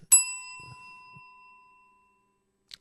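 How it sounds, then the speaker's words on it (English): A single bright bell ding, used as a sound effect on a livestream, rings out sharply and then decays slowly into silence. A soft tap follows near the end. "So first in the chat today, Avocados Diablo gets the bell."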